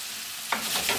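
Ground turkey and red curry paste fry in a hot pan, a quiet hiss that swells halfway through into a louder, steady sizzle with a bit of stirring.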